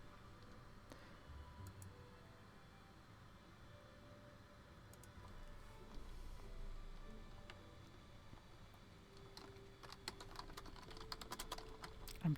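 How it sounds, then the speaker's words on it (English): Someone types on a computer keyboard during a casual co-op playthrough of the game Outward, a soft, steady patter of key clicks that turns into faster, denser bursts near the end, quiet and with no talking. "I'm typing. I'm sure you can hear that too."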